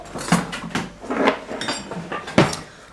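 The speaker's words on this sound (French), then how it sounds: "Je vais attraper ma cuillère à soupe" Clinks and clatters of kitchen utensils as a tablespoon is picked up while making strawberries with cream, a few sharp metallic knocks at an irregular pace, close by.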